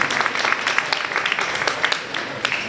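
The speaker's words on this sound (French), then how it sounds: "Un applaudissement, s'il vous plaît." Audience applause at a chamber of commerce gathering in Montréal-Nord, a dense patter of many hands clapping steadily for nearly three seconds with no talk over it.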